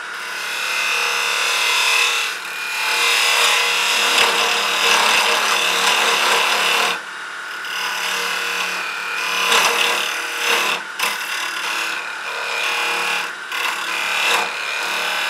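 A lathe spins a Banksia nut pod while a tool cuts a tenon into it, giving a sustained, close, loud scraping and rasping hiss that drops briefly, then carries on with uneven bursts and no talking.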